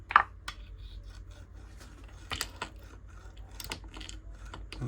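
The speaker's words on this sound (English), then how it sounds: "I'm only going to do the one bearing that I think is making the noise." A MaxxAir roof fan bearing turning roughly, giving a faint, continuous low rumble with scattered scraping and clicking transients from handling the part, heard close up and alone.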